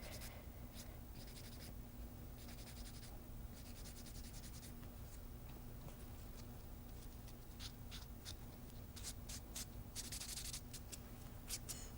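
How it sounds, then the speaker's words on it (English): A nail file rubs across ridges on a toenail in quick, close, faint scratching strokes that come in irregular bursts over a steady low background hum. Nobody speaks. "A few more ridges in there. I'm just going to file those down."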